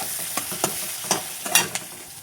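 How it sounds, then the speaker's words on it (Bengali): Onions frying in a pan, a light sizzle under several sharp, irregular spatula scrapes and taps from close by. "পেঁয়াজটা আগে ভেজে নিচ্ছি তারপরে আমটা দেবো"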